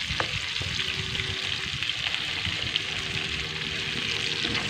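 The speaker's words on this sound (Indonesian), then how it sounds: "Goreng ikan perkasam." Fermented fish (ikan pekasam) fries in hot oil, giving a continuous close sizzle with bursts of crackling and occasional clinks, steady and fairly loud throughout.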